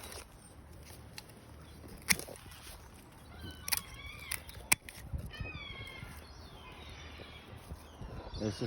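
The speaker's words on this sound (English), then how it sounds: "There's the seagulls wanting fed." Gulls call outdoors in a garden, a few sharp cries and mewing calls at a moderate distance, with quiet rustling in between.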